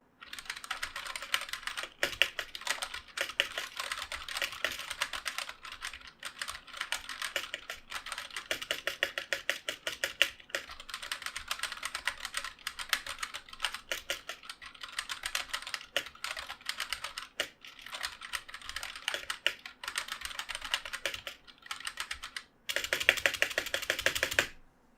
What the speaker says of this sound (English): Coolermaster's new in-house mechanical switches, which are loud and cause the spacebar to have an annoying clack when pressed